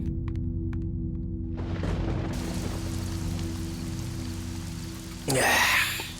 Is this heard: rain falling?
yes